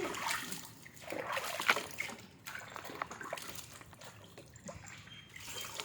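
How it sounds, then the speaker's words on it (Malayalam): Faint, irregular splashing and trickling water as animals are bathed, with small splatters and sloshes coming in uneven bursts at close range. "നല്ല വെള്ളത്തിൽ കുളിപ്പിക്കാം"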